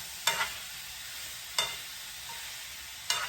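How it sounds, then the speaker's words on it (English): Beef tips brown in a non-stick pan with a soft, steady sizzle, broken by three brief stirring or scraping bursts; no one talks. "Now we're just going to brown these beef tips"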